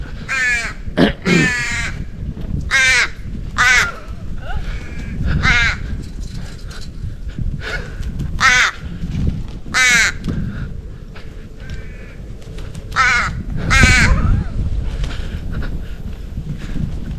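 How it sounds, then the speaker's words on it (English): An aggressive crow caws loudly and repeatedly while swooping at a person near Coral Bay, harsh calls arriving in irregular bursts of one to three over steady outdoor background noise. "I'm getting mobbed by a crow."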